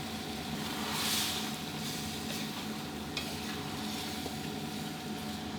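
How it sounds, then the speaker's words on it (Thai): Catfish stir-frying in a pan, a steady soft sizzle with light scraping and stirring strokes running continuously, moderately close, no voices. "เดี๋ยวผัดให้เนื้อปลาดุกสุกดีสักครู่ครับ"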